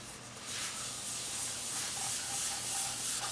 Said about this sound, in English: I am using a sanding block